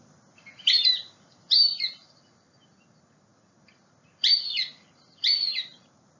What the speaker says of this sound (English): The northern harrier, also known as the marsh hawk, is a common raptor observed around marshes and has a sound like this.